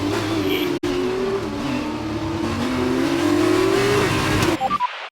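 F1 2019 race car engine in the video game revving hard, a loud rising whine that climbs steadily in pitch, cut briefly near the start, then breaking into a few sharp bursts before dropping to silence.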